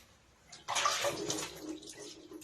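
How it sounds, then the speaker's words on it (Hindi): Running tap water splashing over hands being washed at a sink, a sudden rush of water that starts partway through and keeps flowing steadily, close and fairly loud, with no talking. "मैं एक बार हाथ धो लूँ फिर आपको दिखा रही हूँ।"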